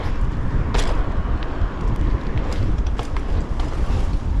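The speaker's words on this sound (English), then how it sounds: "It's so windy, bro." Strong wind buffets the microphone in a steady, loud rumble, with brief gusty bursts and a faint whoosh of passing traffic.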